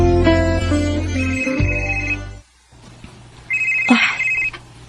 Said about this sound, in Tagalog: Si Jelly ning nanawag.